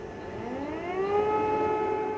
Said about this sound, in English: The early sirens wailed in Ukraine's capital once more